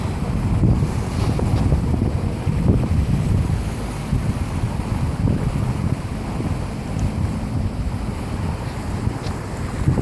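Steady rumble of a boat motoring through a river current at Blynman Bridge, Gloucester, Massachusetts, with wind buffeting the microphone and rushing water throughout; no talking.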